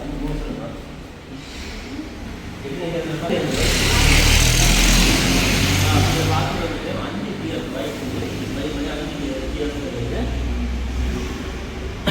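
A motorcycle engine runs close by and revs up for a few seconds before settling back to a steady rumble, with someone talking over it.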